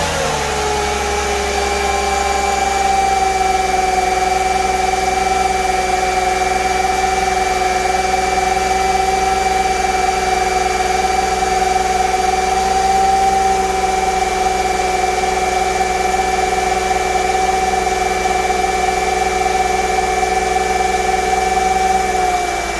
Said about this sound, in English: I let the engine run for 20 minutes